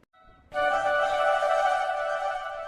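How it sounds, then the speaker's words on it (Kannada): A doorbell in a home sounds a sustained electronic ringing tone that starts abruptly after a brief faint lead-in and holds steadily at even loudness, with no voices. "ಡೋರ್ ಬೆಲ್ ಆತ"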